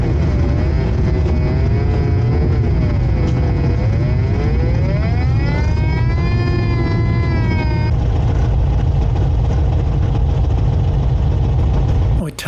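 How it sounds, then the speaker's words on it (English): Falke SF25C motor glider taxiing along a runway, its engine a loud continuous drone with a rising and falling whine, steady for about twelve seconds and cutting off at the end; a voice may speak over it. "I taxied the length of the runway to the facilities at the southern end"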